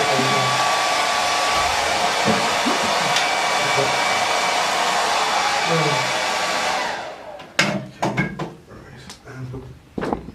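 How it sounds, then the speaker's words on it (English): A hair dryer blows a loud, steady rushing stream of air onto painted trousers for about seven seconds, then cuts off and is followed by a few knocks and clatters. "Hair dryers are great."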